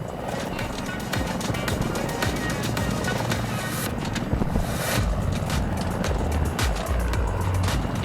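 Steady, loud rotor chop and engine roar of a helicopter in flight, constant throughout with scraping, rattling noise layered on top.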